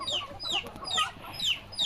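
Chickens eating chopped banana stem feed cluck close by in a quick, repeated rhythm, their bright calls standing out over a quiet farmyard background with no talking.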